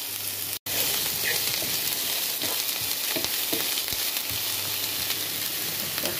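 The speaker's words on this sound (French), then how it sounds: "Maintenant, je prends mes oignons et mon ail. Je vais faire revenir jusqu'à ce que ça devienne brun." Onions and garlic browning in a pan, a loud dense continuous sizzle right up close with faint stirring scrapes, after a brief cut near the start, no talk.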